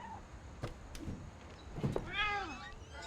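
A cat in the video game What Remains of Edith Finch gives a rising, wavering meow near the end, preceded by a few soft game sounds over a quiet ambient background.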